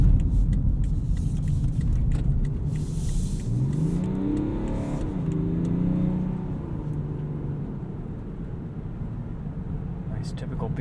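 A 2017 BMW X5 xDrive35d diesel SUV cornering on the road, its engine a steady low drone with a rise and fall in revs mid-way, heard from inside the cabin with continuous road rumble and no talk.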